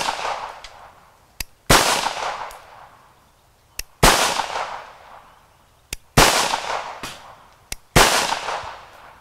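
A Bersa Thunder .380 pistol fires four sharp, loud shots about two seconds apart, each with a ringing decay, and small metallic clicks come before each shot.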